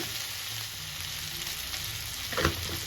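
Chopped ivy gourd stir-fries in a pan with a constant close hiss and sizzle, and a short scrape of stirring near the end.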